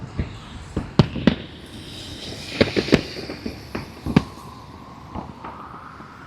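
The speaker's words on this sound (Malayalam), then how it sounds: "ദുബായ് അൽസീഫിൽ നിന്നുള്ള മനോഹരമായുള്ള റമദാൻ സ്പെഷ്യൽ വെടിക്കെട്ടാണ് മക്കളെ നിങ്ങൾ ഇപ്പോൾ കാണുന്നത്" Ramadan fireworks burst over Dubai's Al Seef waterfront at night. Sharp, distant-sounding bangs and cracks come irregularly, several in quick clusters, with a faint crowd murmur between them.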